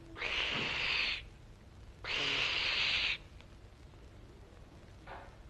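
Two long, breathy hissing honks from a voice imitating a goose, separated by a pause, with a faint short one at the end.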